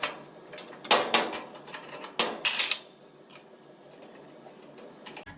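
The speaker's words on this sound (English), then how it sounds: "Use a spanner, remove the nut connecting the nozzle by returning it" A metal spanner clicks and scrapes against the nut on a gas range nozzle, giving several sharp, close metallic ticks in two short clusters, then a near-quiet pause with a final tick.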